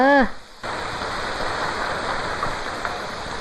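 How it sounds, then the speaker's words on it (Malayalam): Steady rain pours in a continuous wash of hiss that begins after a brief voice and holds evenly to the end. "മഴ."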